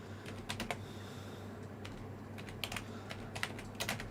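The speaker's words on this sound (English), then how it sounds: "I'm typing a message to him on Skype, see if he responds to it" Quick bursts of clicking keystrokes on a computer keyboard, typing a Skype message close by over a steady background hum, with short pauses between clusters of taps.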